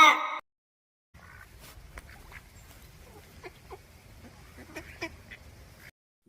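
A duck quacks several times in short, nasal calls scattered over a low background rumble, following a brief burst of music at the start.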